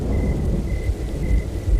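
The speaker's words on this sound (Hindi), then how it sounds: "हल्की हल्की बारिश शुरू" Steady rumbling rain with low thundery wash, a faint tonal hum running intermittently through it.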